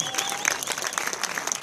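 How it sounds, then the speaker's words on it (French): Brief applause from an event audience, scattered individual claps standing out over a light crowd bed, moderately close and loud, no speech. "on peut les applaudir."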